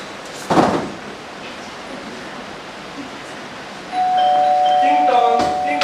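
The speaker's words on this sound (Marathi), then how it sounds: "टिंग टॉंग, टिंग टॉंग." A doorbell rings in a staged safety-week drama: a short burst near the start, then a steady, fairly loud chime tone that holds through the last two seconds over faint room noise.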